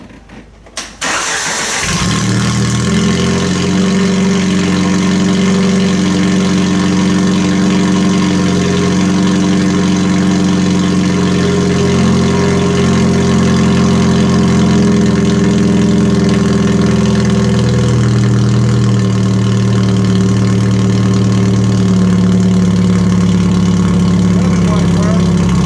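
A loud Jeep engine with a straight-pipe exhaust starts with a quick crank, then settles into a deep, rumbling idle with a raw, unmuffled exhaust note that carries on steadily throughout.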